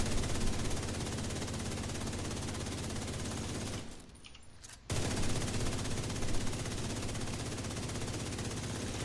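Sustained automatic gunfire in The Division 2, a steady rattling stream of shots that drops out for about a second, then resumes just as heavy.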